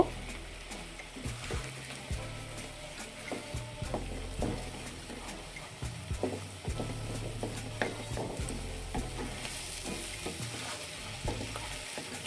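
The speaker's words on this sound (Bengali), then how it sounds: "এখন আমি এখানে দুইটা ডিম ভেঙে দিলাম ডিমগুলোও একটু ভেজে নিব" Eggs fry with vegetables and soybeans in a pan, a steady close sizzle broken by frequent scraping and stirring knocks of a utensil, with no talking.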